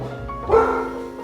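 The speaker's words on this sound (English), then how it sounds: "Apologies, that's our dogs barking." Dogs bark and yip indoors near a home kitchen where a steak is being cooked, short muffled yelps over a steady background hum.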